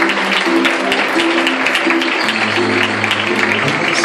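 Steady applause from a crowd at a charity choir gathering fills the whole stretch, with a low sustained tone running beneath it.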